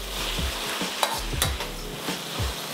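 A constant hiss of potatoes frying in a hot wok, broken by repeated stirring scrapes and light knocks of a utensil against the pan. The sound is close, busy and free of talk.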